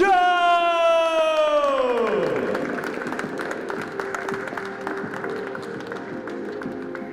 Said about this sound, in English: Welcome with a big hands of applause, Chieh-Yu!